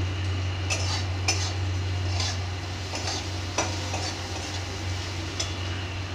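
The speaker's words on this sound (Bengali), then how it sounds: "পেঁয়াজটা নরম হয়ে এসেছে, এবার আমি দিয়ে দেব হাফ আলু কেটে রাখা" A spatula scrapes and clicks in a frying pan of softened onions with chopped potatoes, with soft sizzling and a few irregular sharp taps over a steady low hum.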